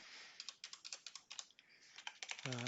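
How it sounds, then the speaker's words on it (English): Rapid typing on a computer keyboard during a network management software demo, a steady run of close, crisp key taps with brief pauses, ending as a voice begins to speak. "If I can type."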